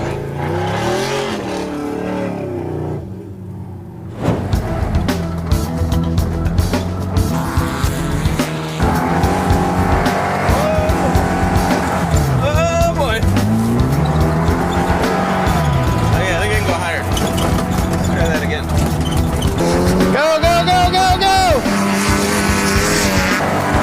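Trucks racing up a sandy hill, including a muscle truck, with engines roaring and revving hard, tires squealing and spinning in the sand, loud and sustained, with people talking over the noise.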